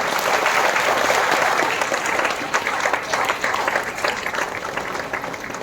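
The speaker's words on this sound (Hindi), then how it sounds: "फिर से एक बार हम उन सभी लोगों के लिए तालियां बजाएंगे जो सभी स्वागत के पात्र हैं" A crowd claps together at a birth anniversary ceremony in Nanded, India, a dense, sustained wash of applause that stays loud and even throughout, with no talk over it.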